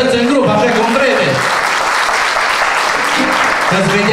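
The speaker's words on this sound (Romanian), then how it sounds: "vă rog să-i aplaudați" Wedding guests at a restaurant applaud the vocalists, a dense steady clapping that fills the room, with music or voices audible at the start and end.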